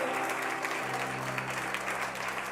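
A church congregation at a Sunday worship service applauds and cheers for Jesus, with dense continuous clapping and crowd noise over a sustained musical tone.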